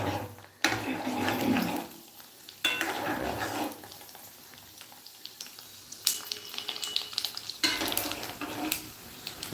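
Fuchka puris deep-frying in very hot oil on a high gas flame in Kolkata, bursts of loud bubbling sizzle that swell and fade in waves as batches go in, close by, with occasional faint clinks.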